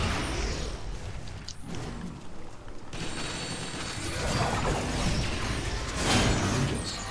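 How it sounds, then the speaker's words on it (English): An EMP grenade detonates in Transformers: War for Cybertron, blowing up a Transformer: a dense, crunching blast with shattering debris that swells around the midpoint and stays loud amid constant battle noise. "Somebody threw an EMP grenade."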